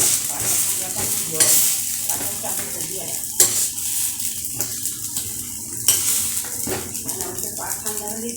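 Dalia chila browns in a frying pan as breakfast. A continuous sizzle runs throughout, broken by repeated scraping and clicking from a spatula, with faint background voices.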